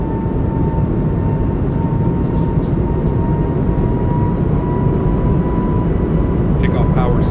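Airbus A220 engines in a flight simulator spool up for takeoff, a loud steady roar with a sustained whining tone that holds throughout, and a voice talks briefly over it near the end.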